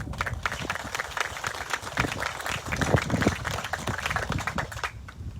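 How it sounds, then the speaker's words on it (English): Attendees at a Department of Defense and Tinian groundbreaking ceremony for a divert airfield applaud outdoors, a moderate, uneven clatter of clapping that holds for several seconds and thins out at the end. "So give it up to you guys, a round of applause."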